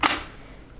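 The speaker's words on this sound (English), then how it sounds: "I can feel it's engaging the shutter release mechanism. Boom, there you go." A Soviet rangefinder camera's shutter release fires with one sharp, close mechanical snap at the very start, followed by a faint trailing hiss and a small click near the end.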